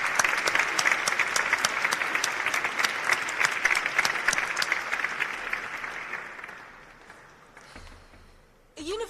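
Audience applause at a university graduation ceremony, sustained dense clapping from a large crowd that fades gradually toward the end before a brief voice cuts in.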